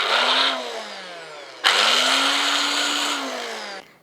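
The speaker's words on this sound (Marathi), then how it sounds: "पाण्याचा अजिबात वापर न करता मिक्सरला हे फिरवायचं. झाकण लावायचं आणि मिक्सरला फिरवून घेऊयात." A kitchen mixer grinder dry-grinds coriander with salt and no water in two bursts. A loud whirring motor runs, stops briefly, restarts and then winds down, close up with no voices.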